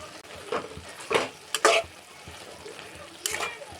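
A fenugreek and vegetable curry is stirred in a pan, with a few soft scraping strokes over a quiet sizzle. No one speaks.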